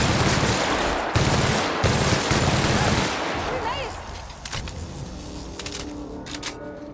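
Gunfire in The Outer Worlds comes as loud, rapid automatic bursts that stop and start, followed by quieter scattered shots, impacts and game effects.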